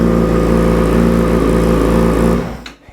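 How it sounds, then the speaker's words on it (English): A 2005 Yamaha R6 sport bike engine runs loud and close with a steady, buzzy mechanical drone, then abruptly drops away near the end as the throttle closes and the sound tapers off. "Go ahead and give it a little bit of gas here."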